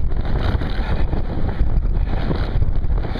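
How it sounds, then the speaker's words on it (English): Wind buffets a microphone outdoors, a loud rough continuous rumble with gusty fluctuations and no voices. "I've got a wind from the south. It's picking up a little bit"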